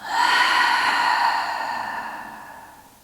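Slow deep breath drawn in and let out during a guided yoga flow, a single long airy exhale that is close and fairly loud at first, then gradually fades.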